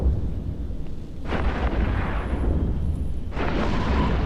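A Typhoon battleship blowing apart in the space game EVE Echoes, heard as a continuous low rumbling roar with two loud bursts of blast noise swelling over it, the second near the end and sustained.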